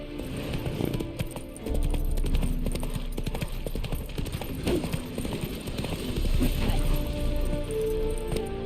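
Roach, the horse in The Witcher 3 video game, galloping with rapid, steady clip-clop hoofbeats over a dense game soundscape of wind and ambience. The hoofbeats are loud and continuous throughout.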